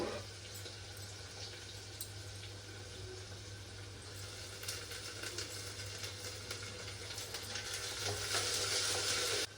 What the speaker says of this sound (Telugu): బ్రౌన్ కలర్ వచ్చే వరకు ఫ్రై చేసుకోవాలి.